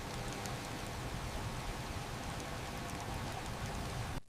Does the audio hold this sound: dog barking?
no